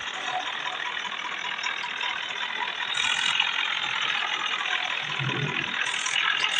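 Heavily loaded tractor pulling two trolleys uphill on a rural track, a steady labouring engine drone held close and fairly loud throughout, with slight swells in strain and no talk over it.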